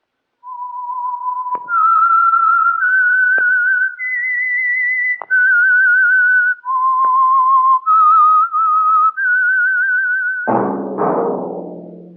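A lone whistler carries a slow, wavering tune of held notes stepping up and down, the theme of The Whistler radio drama, ending as a brief burst of orchestral music enters.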